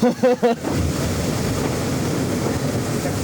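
A strong 40-knot wind and a rising sea aboard the maxi trimaran Banque Populaire V make a steady, loud, close rushing roar of wind and water that follows a brief voice at the start.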